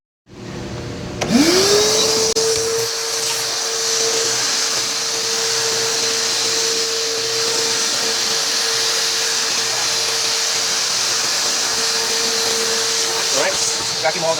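Vacuum cleaner switching on and running steadily at close range, sucking up plastic particles left from drilling holes in tanks, a continuous whine holding for the whole stretch before cutting off.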